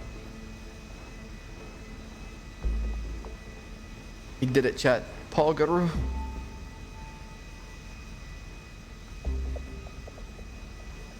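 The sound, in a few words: jet airplane engine in video game GTA V NoPixel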